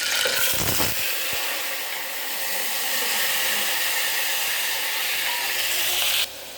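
Onion paste fries in plenty of hot oil in a cooker, a loud steady close hiss with a few brief clattering knocks near the start, cutting off just before the end.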